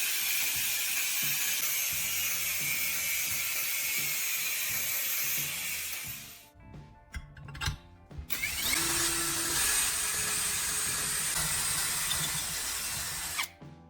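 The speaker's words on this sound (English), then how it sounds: "I drill a clean hole right in the center so it can mount onto the grinder shaft." A power drill bores a hole through the center of a metal handle, whining loudly and steadily for about six seconds, then stops with a few clanks before drilling resumes until the end.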